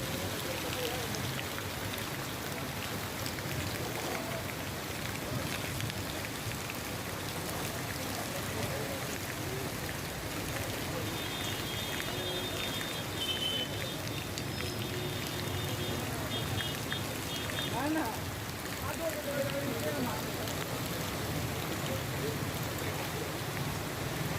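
Heavy evening rain pours down steadily in a dense, unbroken hiss that stays loud throughout, with faint background voices now and then.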